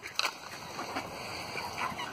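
Ducks being fed outdoors give a short burst of honking and quacking calls, with several birds clustered near the listener at moderate volume over a steady bed of background noise.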